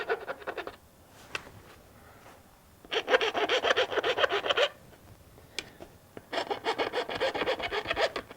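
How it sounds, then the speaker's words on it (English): A flat-edge screwdriver scrapes deposits off the metal of a semi-automatic shotgun in three loud, rasping bursts of rapid strokes, separated by quieter pauses. "We're just using a little flat edge or a front edge screwdriver, just scraping off the top."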